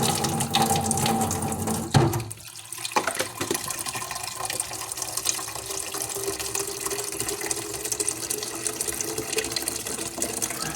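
A tap runs steadily into a sink, a continuous close gush of water that shifts briefly near the start, then keeps flowing evenly with no speech.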